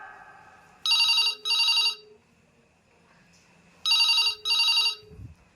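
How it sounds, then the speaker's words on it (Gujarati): A telephone rings in two pairs of loud, bright electronic double rings separated by a pause, close and clear over a quiet room. "તમને ફોન આવે ઈ નથી સંભળાતો?"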